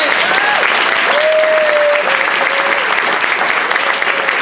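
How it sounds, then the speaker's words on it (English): At a Woman of the Year awards ceremony held by the Schenectady BPW in 2016, an audience breaks into loud, dense, continuous applause, with a thin whistle-like tone drifting over the clapping. "How about one round of applause for these two wonderful women?"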